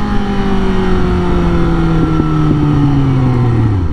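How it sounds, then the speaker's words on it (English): A Suzuki GSX-S750 motorcycle's loud engine exhaust note droning steadily nearby, its pitch sliding slowly downward as the revs ease off. "Gives you nice power, nice exhaust note, torque's insane."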